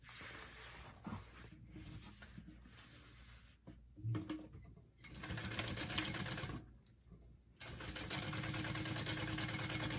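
Sewing machine stitching white vinyl handles onto a handbag, a steady mechanical whir that runs in several stretches, stopping briefly and restarting, close and fairly quiet.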